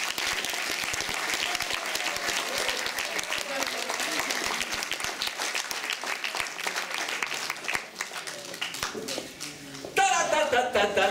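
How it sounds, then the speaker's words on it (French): Sustained applause from a large audience, dense and steady, with a brief swell near the end. "Je peux les applaudir encore une fois."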